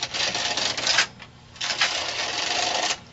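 Domestic knitting machine carriage passing across the needle bed in two rows of plain knitting, giving two loud rattling, clacking sweeps separated by a short pause, close by with no talking.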